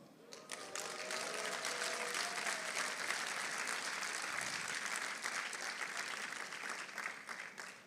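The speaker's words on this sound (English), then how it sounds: "Everybody who even clapped at that" A convention audience in Rwanda bursts into sustained, dense applause after an announcement, the steady clapping of a large crowd filling the room from start to finish with no speech.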